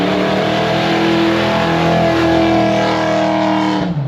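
A 1968 Ford Mustang with an open differential doing a one-tire burnout: loud, sustained engine roar at high revs with a steady droning tone, close by, cutting off abruptly at the end.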